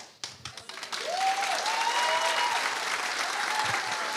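An audience applauds the speaker Carlos Araya at a talk, starting with a few separate claps that quickly swell into steady, full applause, with a whooping cheer rising above it.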